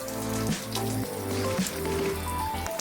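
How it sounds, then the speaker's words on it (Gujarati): Rain falling behind a house, heard as close tapping and dripping drops on a surface with a patter of wet impacts over a steady background hum, no talking. "પાછળથી દેખાય વરસાદ ચાલુ છે હમણાં"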